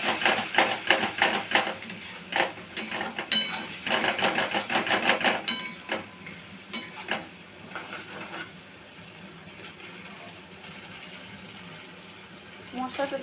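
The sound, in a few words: stir-frying shrimp curry spice paste in a pan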